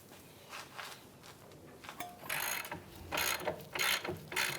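Ratchet wrench clicking as it turns an 18 mm nut on the rear suspension of a 2007-2015 Mazda CX-9, bursts of rapid ratcheting growing louder and more frequent toward the end, close and alone.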